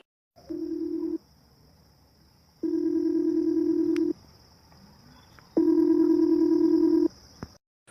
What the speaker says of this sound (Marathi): फोन वाजून राहिला ना कोणाचा फोन आला